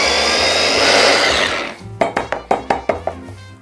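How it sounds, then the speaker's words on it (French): Blender whirring loudly as it grinds homemade Nutella ingredients with a pinch of vanilla and salt, then stopping, followed by a series of about eight short, evenly spaced knocks or pulses. "Je vais moudre un petit peu."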